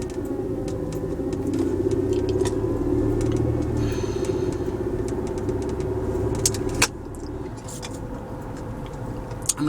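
A car engine idles with a steady low rumble from inside the vehicle, with small rattles and clicks, easing to a quieter hum near the end.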